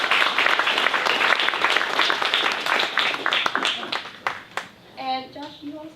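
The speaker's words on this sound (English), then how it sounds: "So if we can get a round of applause just for the parents." Wedding guests give a round of applause for the parents, dense clapping that thins into scattered claps, then voices and a child are heard as it dies away.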